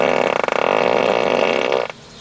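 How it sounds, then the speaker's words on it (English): A Tesla's in-car screen plays a novelty fart sound effect, a loud, buzzy, sputtering blast lasting nearly two seconds before cutting off abruptly; no talking. "Except for the farting noises,"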